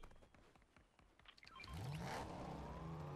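A car in the Fortnite video game pulls away, its engine revving up and building into a loud, steady whir after scattered clicks and thumps from the game.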